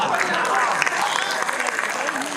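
Audience applause at a Hindi poetry recital, a steady wash of clapping filling the hall throughout, moderately loud with a crowd murmur underneath.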